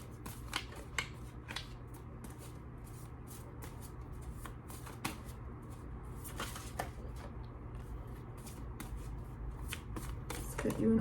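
Oracle cards are shuffled by hand, close and steady, with rapid crisp riffles and flicks repeating throughout against a low hum.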